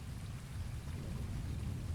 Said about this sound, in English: The rain has blessed the world tonight.